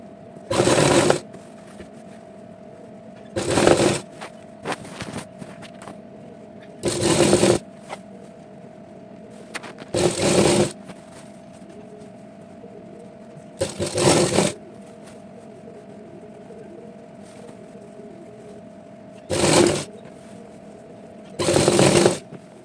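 A sewing machine stitches a heavy Patiala salwar in repeated short whirring bursts of a few seconds each, separated by pauses, over a steady low room hum.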